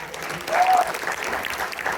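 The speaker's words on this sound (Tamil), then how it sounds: "சிறப்பாக பேசிய எல்லோருக்கும் மீண்டும் உங்கள் கரகோஷம்" Audience applause at a Tamil association debate event in Albany, New York, a brief, moderately quiet round of clapping with a voice faintly heard over it.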